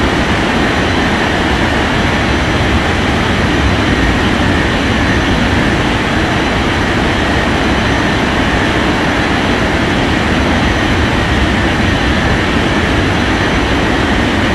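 An airliner takes off from runway 14 right in an air traffic control game, a loud, constant jet engine roar with deep rumble holding steady throughout, no voices.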